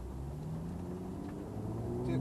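A Porsche 911 GTS engine hums steadily from inside the car as it drives down the road, a low continuous drone that swells slightly toward the end.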